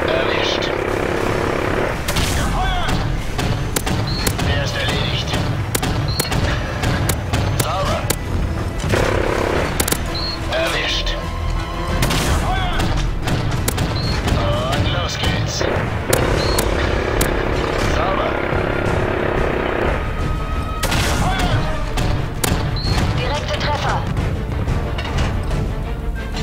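An AC-130 gunship fires repeated heavy cannon bursts in Call of Duty MW3, booming over a constant aircraft drone, while someone talks excitedly throughout.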